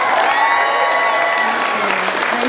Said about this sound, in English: Can we have a round of applause actually for Claire there